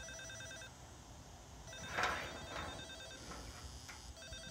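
An Elenco solar educational kit's music player chimes out an electronic tune while powered by sunlight, a steady beeping melody of repeated tones with a brighter burst partway through, close and moderately loud.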